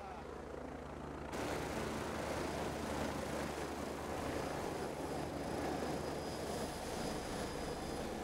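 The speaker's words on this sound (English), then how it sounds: "When the helicopter comes back, be ready to wrap and run," Steady loud rotor and engine roar of a helicopter, close by and continuous, rising suddenly after a second of quieter rumble, with faint voices underneath.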